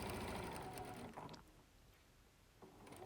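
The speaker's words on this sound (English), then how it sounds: "Now sew all the way round" A sewing machine stitches around the edge of Christmas fabric napkins, a fast, close mechanical whir for about a second and a half before slowing and stopping, then a brief restart.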